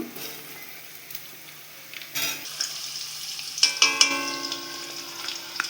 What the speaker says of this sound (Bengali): কোচানো পেঁয়াজগুলো ভেজে নেব